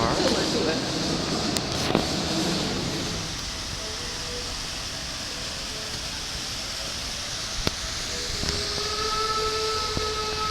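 A train rumbles along with a steady broadband roar, a few sharp clanks and a faint tonal whistle, while voices murmur in the background.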